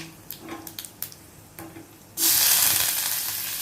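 A few sharp pops and crackles sound first, then a loud, steady sizzle erupts as spices splutter in hot oil.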